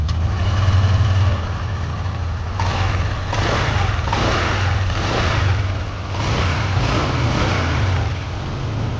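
Honda Click 125 scooter engine turns over and settles into a fast idle, a close, steady low buzz with a few brief blips of throttle and no talk.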